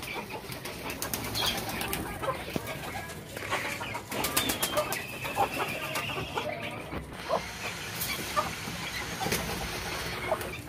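Outdoor flock sounds with wings flapping and scattered bird calls, pigeons, chickens and chicks mixed together, continuous and busy at moderate distance.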